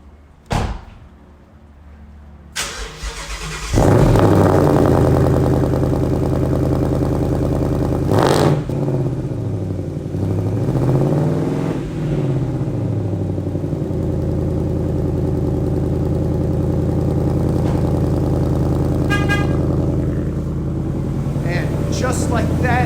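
Ford Mustang GT V8 cold start: a starter crank and a sudden loud roar settle into a high, steady, rumbling idle with a couple of revs, close up, with a door thump beforehand.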